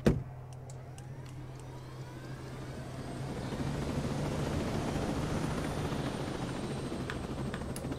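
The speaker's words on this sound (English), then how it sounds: "I'm gonna go and drive the helicopter." A helicopter in the video game Ghost Recon Breakpoint whirs with a steady rotor drone after a brief sharp start, growing slightly louder and fuller as it flies, with no talking.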